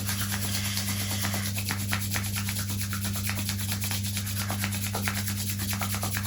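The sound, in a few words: palms rubbing together to create friction and heat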